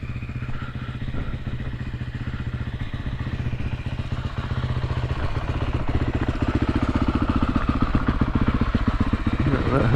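A Husqvarna TE310R dirt bike engine runs with a steady rapid mechanical pulse recorded from a helmet-mounted camera, close and continuous, slowly building in intensity over the ten seconds.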